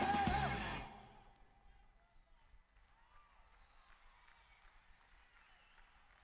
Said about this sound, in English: gotta bring that crowd noise up a little